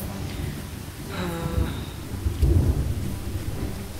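Rumbling thunder rolls over steady rain in the adventure game Lost Horizon, near a castle. The thunder swells in the middle and the downpour hisses continuously, with no one talking.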